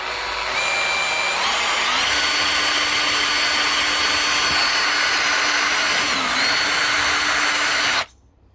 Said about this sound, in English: I'm going to drill just through here